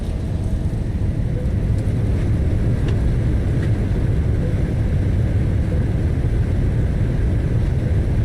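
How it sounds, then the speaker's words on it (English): A Boeing 737-800 airliner in the X-Plane 11 flight simulator rolls out on landing at Winnipeg with its thrust reversers engaged. A loud, steady engine roar and rumble fills the clip without letting up. "And reversers engaged."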